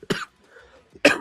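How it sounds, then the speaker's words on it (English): Two sharp coughs about a second apart, close up, with a faint breath between them. "got a cough going"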